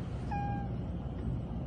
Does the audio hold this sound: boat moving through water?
no